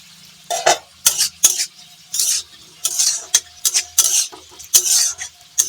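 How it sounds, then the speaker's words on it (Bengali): A spatula clatters against a pan in irregular bursts while bitter gourd fries, with a light sizzle underneath. The scrapes and clinks are close and fairly loud, separated by brief quiet gaps, and no one speaks. "ওদিকে আমি উচ্ছেটা আরেকবার নেড়ে দিই।"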